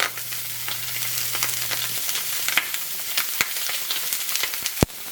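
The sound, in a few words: duck breasts sizzling skin down in a hot pan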